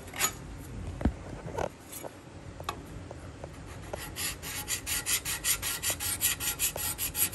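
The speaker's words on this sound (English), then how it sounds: "right here I use the scraper versus the sander" A hand scraper works across a wood surface, first in a few scattered scrapes and ticks, then in a quick, even run of rhythmic strokes, close and clear, with no speech.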